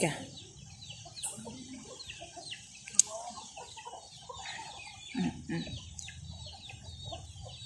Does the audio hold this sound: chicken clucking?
yes